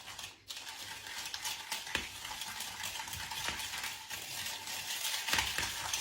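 A spoon stirs a soft brioche mixture with cinnamon in a bowl, continuous close scraping and clinking against the sides with a few sharper taps.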